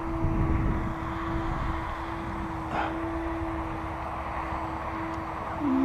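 A Brodak electric P-40B model airplane flies overhead, its steady electric motor and propeller whine held at a constant pitch from a moderate distance, with no voices.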